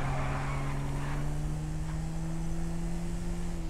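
A small motorbike engine in the video game GTA 5 drones at a steady, even pitch, a constant close hum holding with little change and no voices.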